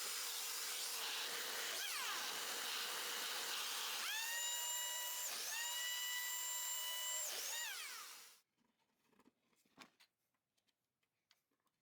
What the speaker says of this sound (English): I'm using my biscuit joiner to create a 34 by 16 inch tabletop.